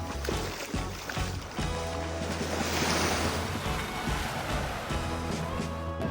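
Ocean waves washing in at Jamwest Beach, Jamaica, with a horse out in the water: a constant near surf rush with wind buffeting the microphone, rising and falling over several seconds, no voices.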